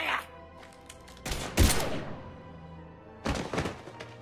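Gunfire breaks out in the Mass Effect 3 video game: sharp, heavy shots and thumping bursts with rattling debris, separated by short pauses, with speech nearby.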